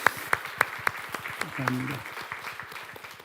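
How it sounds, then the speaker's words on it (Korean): Church congregation applauding during a Sunday worship service, sharp claps at first then a denser wash of clapping, with someone speaking briefly over it. "다시 한번 박수하고 축하하겠습니다."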